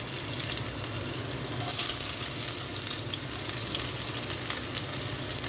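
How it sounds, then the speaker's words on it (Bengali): Chopped onions frying in hot oil with a torn bay leaf, a steady close sizzle and crackle running throughout with faint stirring and no talk. "পেঁয়াজটা ভাজা হবে কিন্তু একটু নরম থাকবে।"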